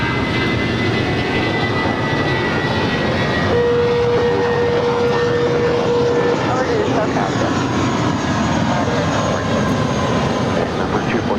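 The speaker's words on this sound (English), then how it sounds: "Next departure is JetBlue Airways, flight 2704, heading to San Francisco. It's an A320." A JetBlue Airways Airbus A320 jet roars steadily on its takeoff roll at LAX, a loud, continuous engine rumble filling the whole stretch, with a brief faint steady tone mid-way and no pauses.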